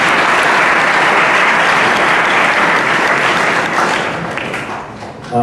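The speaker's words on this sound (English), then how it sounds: "they deserve a round of applause for putting this together" A large audience at the boys' semifinal of a 2014 competition gives a loud, dense round of applause that holds strong, then thins and fades toward the end.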